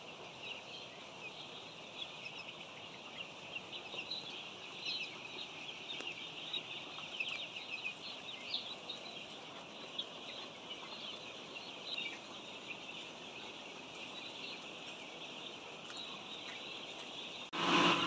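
A large poultry building holding about 42,000 broiler chickens gives off a dense, continuous chorus of cheeping and clucking, steady and filling throughout.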